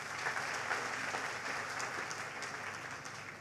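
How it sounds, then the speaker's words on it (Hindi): Steady applause from a seated audience at a company presentation, a continuous patter of clapping that stays even and then eases slightly at the end. "तालियां होनी चाहिए"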